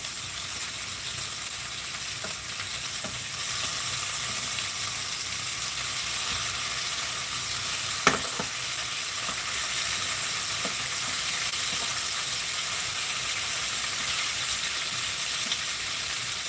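Honey ginger lamb chops stood on their edges fry in a pan with an even, moderate sizzling hiss. A few faint taps and one sharp clink come around the midpoint, and there is no talking.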